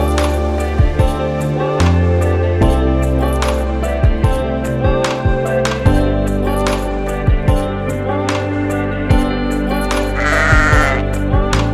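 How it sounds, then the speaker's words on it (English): Sheep bleating in the Bay of Islands, New Zealand: loud, close, wavering calls repeating every second or so, with a few clinks and knocks between them. "We've been here a week and it's our first sheep we've ever seen."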